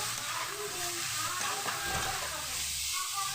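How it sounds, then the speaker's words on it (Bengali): Garlic paste, ginger paste and chopped tomato fry in hot oil with a steady, dense sizzle throughout, close and loud, with faint stirring scrapes underneath. "এখানে দিলাম রসুন বাটা আদা বাটা দিলাম টমেটো কুচি"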